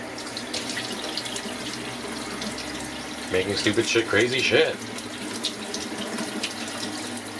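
A kitchen tap runs water into a sink for about a second and a half, loud and close, while a person talks over it in a home kitchen during film developing.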